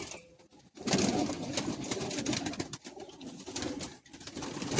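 Pigeons cooing close by in a loft, a steady murmur of soft coos and wing rustles that fills the space with only brief pauses.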